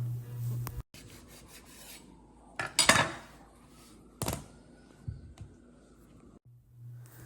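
Pumpkin being cut in half with a long knife, scattered scraping and knocking of the blade against the tough skin and board, with a few sharp bursts amid quiet gaps.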